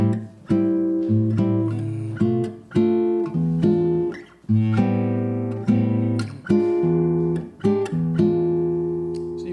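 An acoustic guitar plays samba canção comping chords in a syncopated, lilting Brazilian rhythm, repeated strummed and plucked accents across four bars, close and clear with no voices.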